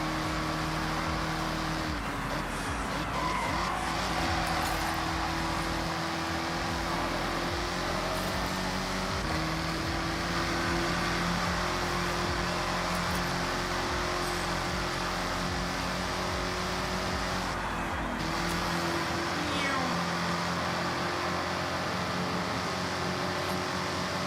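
Car engine droning and revving in a racing video game, a sustained mechanical tone with shifting pitch that holds steady for a long stretch, with no talk.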